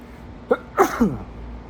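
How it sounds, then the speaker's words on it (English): A single sharp sneeze close by, preceded by a quick intake of breath and followed by a brief trailing sound. "sneezing."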